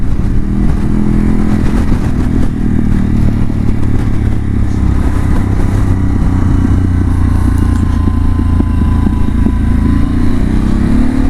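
A motorcycle engine drones loudly and steadily while riding an open road with strong wind noise, the low engine note shifting slightly as it drops into first gear.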